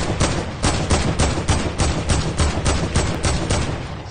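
Gunfire in a video game: a steady, dense stream of rapid automatic shots, loud and continuous for several seconds with no gaps or talking.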